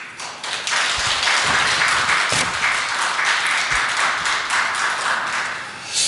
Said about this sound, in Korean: 우리에게 신년 예배 때 이렇게 은혜로운 피아노 독주를 해준 우리 박미소 성도에게 큰 격려의 박수 드리죠.